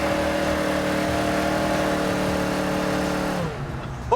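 A 1971 Chevrolet Chevelle holds a loud, sustained engine roar with tires spinning for over three seconds, then the noise abruptly drops away.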